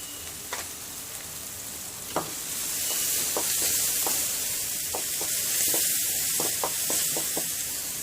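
Cumin seeds sizzling in hot oil while frying for a chutney, a steady bright hiss that swells partway through, broken by sharp clicks and taps of a utensil stirring in the pan.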